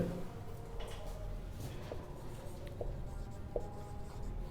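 Pen or chalk writing notes during a classroom lesson, a soft continuous scratching over low room hum with a few faint taps, fairly quiet and steady throughout.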